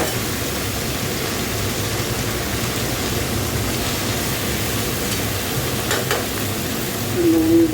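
Leafy greens frying in a pan with onion, black cumin and mustard seeds: a continuous close sizzle and crackle that holds steady and swells slightly near the end.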